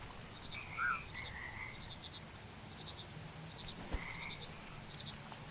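Frog croaks from the video game Mudborne, a few short, faint calls scattered over a soft ambient background with a brief click near the end; no talking.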